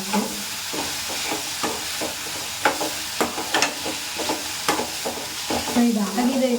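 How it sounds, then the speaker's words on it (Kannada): Leafy greens frying lightly with masala in a pan for a village-style Malenadu egg and chicken sambar, a steady close sizzle broken by frequent sharp scrapes and clinks of a stirring spoon. "ಸೊಪ್ಪು ಹಾಕಿದ್ಮೇಲೆ ಸ್ವಲ್ಪ ಲೈಟಾಗಿ ಫ್ರೈ ಮಾಡ್ಕೊಂಡು ಆಫ್ ಮಾಡ್ಕೊಳ್ಳಿ ಸಾಕು"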